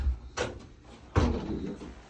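Nova sliding closet door panel being set into the front track, two separate knocking thuds with brief rattling as the panel seats, close and fairly loud, no talking.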